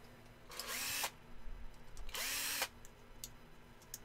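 A Dremel rotary tool whines through two sustained cutting passes of about half a second each, close and fairly loud, with brief rising spin-ups and quiet gaps between them.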